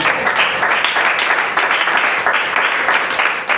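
A congregation at a church youth seminar breaks into loud, dense applause, continuous close clapping sustained for several seconds without a pause.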